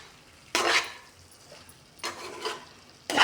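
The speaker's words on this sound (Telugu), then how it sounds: "మంచిగా మిక్స్ చేసేసుకోవాలి." A spoon scrapes and stirs a broad bean stir-fry with green chillies in a pan, making three loud, close bursts of scraping and faint sizzle with quiet gaps between them.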